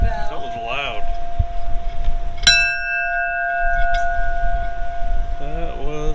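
One sharp metallic ship's bell strike rings out and sustains with a long, humming tone, with people talking before and after, at a Key West shipwreck museum.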